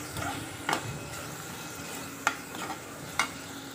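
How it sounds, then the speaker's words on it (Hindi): A spoon stirs salt, coriander powder and garam masala into a green bean and potato sabzi. Three crisp scraping clinks come at uneven intervals over a soft, steady sizzle from the pan, with no talking. "नमक डाल दूंगी, धनिया पाउडर डाल दूंगी और अभी डाल दूंगी गरम मसाला और सबको मैं अच्छे से मिक्स कर लूंगी।"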